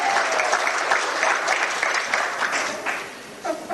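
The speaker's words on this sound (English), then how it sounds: "you're creating this situation where you have to applaud everybody" Loud, dense applause from a seated audience, a continuous roar of many hands clapping at once that stays strong throughout and dips slightly near the end.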